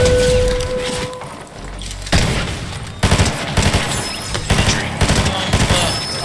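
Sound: gunfire in the video game Fortnite

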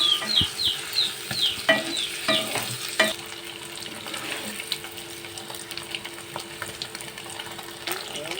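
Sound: frying paneer pieces in butter in a kadai

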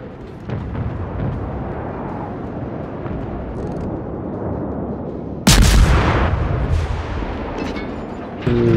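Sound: battleship gunfire and shell hits from a video game

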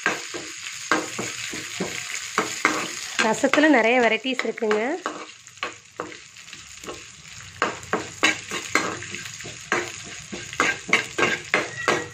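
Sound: frying and stirring in ghee in a pan

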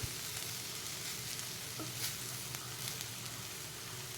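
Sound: kankoda (spiny gourd) vegetable cooking on low heat

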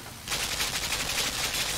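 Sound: gunfire at a box in video game Limbo

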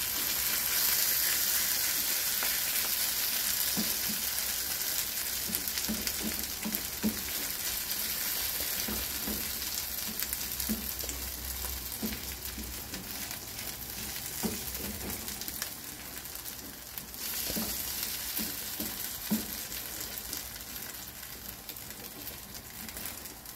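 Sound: tortilla frying in a pan

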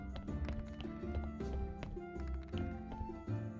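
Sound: horse hooves in video game Graveyard Keeper

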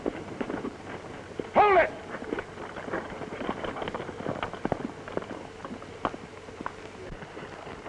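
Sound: horse hooves

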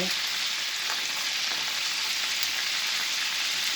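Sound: butter sizzling with steak and garlic in a pan

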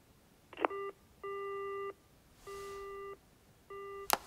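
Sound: telephone call beeps in Yakuza Kiwami 2 video game

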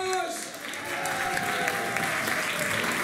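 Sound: audience applause

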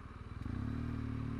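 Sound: tractor approaching on Riedbergpass road

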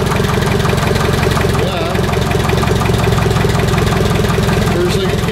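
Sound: old Allis-Chalmers forklift engine cold starting and idling

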